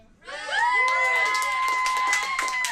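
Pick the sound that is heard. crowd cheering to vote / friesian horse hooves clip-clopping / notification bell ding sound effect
crowd cheering to vote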